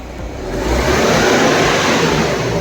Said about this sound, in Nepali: अब हामी भेहिकल रेस गर्न सक्छौँ अर्थात् RPM लिन सक्छौँ